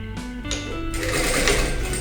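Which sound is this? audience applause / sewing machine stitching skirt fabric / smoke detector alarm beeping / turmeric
sewing machine stitching skirt fabric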